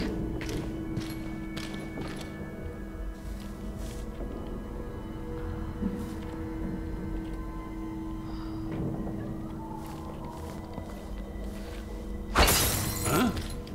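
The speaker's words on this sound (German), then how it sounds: "Das klang wie Glas." Glass shatters loudly with a sudden bright crash near the end of a stretch of quiet footsteps and ambient game sound in Dishonored 2.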